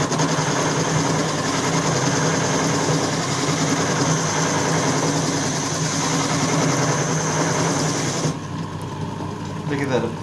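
A drill press spinning a drum sander whirs steadily and continuously while rounding over a wooden corner, a constant mechanical hum that cuts off abruptly near the end, with a person talking over it.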